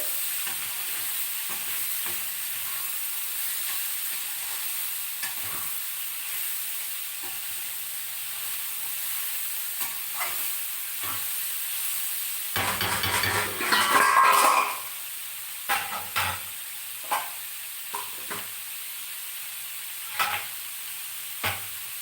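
Capsicum and potato curry stirred in a frying pan, a continuous soft sizzle with scraping and clinking of the spoon against the pan that gets louder midway, then occasional taps.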